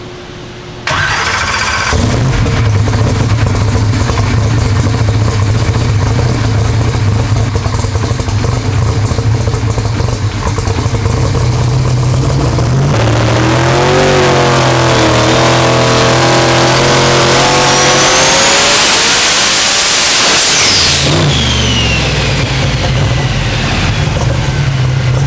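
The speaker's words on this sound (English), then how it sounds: "Hit the rev limiter right there, and kind of laid over." A 4200hp SMX wagon engine on a dyno climbs loudly through the revs, surges near the top and bangs off the rev limiter before dropping back to a rough, heavy idle.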